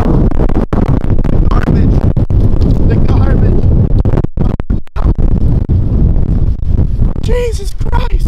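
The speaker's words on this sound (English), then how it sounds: "So it is so windy out." Strong wind buffets the microphone in a constant loud roar, with brief dropouts and a person's voice breaking through near the end.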